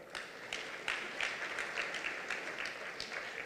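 Audience applause at an evening gala for a medical charity, steady dense clapping from a room of people, moderately loud throughout with no speech.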